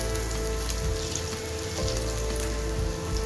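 Aluvadi, colocasia-leaf rolls, fry and crisp on a low gas flame, giving a steady, dense sizzle like rain on a surface that runs evenly throughout, close and moderately loud, with no talking.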